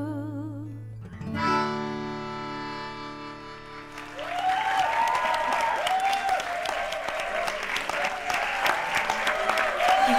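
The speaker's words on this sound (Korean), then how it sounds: "저희 투명 관객들이 네, 박수를 많이 쳐주시네요" Studio audience applause and cheering swell in after a sweet, upbeat song at a youth live-music performance, with sustained tones fading underneath as dense clapping continues loud and steady.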